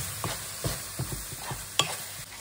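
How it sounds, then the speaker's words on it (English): Fajita mix with spices sizzling in a pan under repeated close stirring strokes, soft scrapes and knocks over a steady low sizzle. "Now you got to keep on stirring this, because especially once your spices are in, it can burn quite easily."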